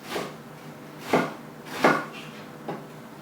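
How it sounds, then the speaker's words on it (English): A knife slicing an onion on a board makes four separate crisp strokes spaced roughly evenly, each a short crunchy cut, close and fairly quiet with no talking. "as thinly as we can, nice and slow and steady, slice down the onion into nice little chunks"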